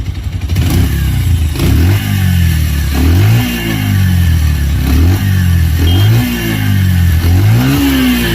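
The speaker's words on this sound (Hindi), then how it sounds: "चलिए जल्दी से इसका मैं आपको एक बार एग्जॉस्ट नोट सुना देता हूँ भाई" A Bajaj Pulsar 125 motorcycle exhaust, recorded up close and loud, rises through about five repeated throttle blips over its idle, each rev climbing and then falling back.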